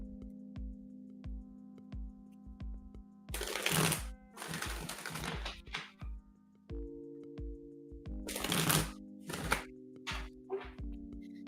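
A deck of tarot cards is shuffled in two bursts of riffling and rustling, close and crisp, over a steady ticking and humming background, with quiet stretches between the bursts.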